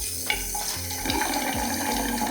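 A bathroom sink faucet set into the wall behind the mirror runs a steady stream of water into a single basin, close and fairly loud, continuous for the whole stretch with no talk.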